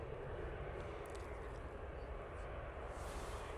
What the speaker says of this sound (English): here comes the Ryanair